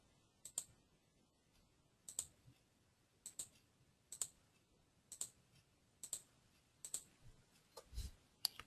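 Sharp, close computer mouse clicks repeat at a steady, roughly one-per-second rhythm in an otherwise quiet room.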